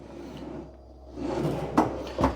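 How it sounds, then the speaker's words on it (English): A pull-out drawer under a Furrion oven in a 2024 Cedar Creek 3325BH fifth wheel RV slides open with a soft rumble, then a couple of sharp wooden clunks, close by and fairly loud. "Now this has a little pull-out drawer down here."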